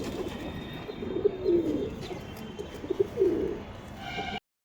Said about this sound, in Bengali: রেসার পায়রা আছে, এটা বেলজিয়াম রেসার পায়রা